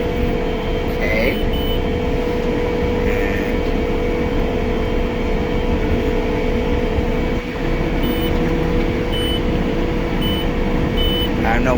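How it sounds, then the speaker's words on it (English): A hay-cutting tractor running with GPS steering engaged, its steady engine drone loud and constant while a warning beeper chirps in short repeated pulses over the top at intervals. "And I don't know what it's beeping for,"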